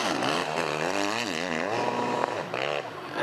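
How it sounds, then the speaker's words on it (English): A motocross motorcycle engine revs hard on the gas between ruts, its rising and falling whine sweeping up and down in pitch over a few seconds, loud and close. "you just hear the engine there, just Marvin Musquin on the gas in between holes there"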